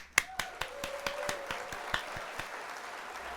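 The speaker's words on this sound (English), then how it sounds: "let's hit the old applause" Recorded applause sound effect played on a Hearthstone game stream: a short burst of clapping with sharp individual claps over a soft crowd wash, fairly quiet and without talk.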